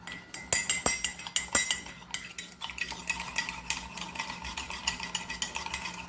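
A spoon stirring sugar and water in a mug, with quick metallic clinks against the sides at first, then a softer continuous scraping swirl.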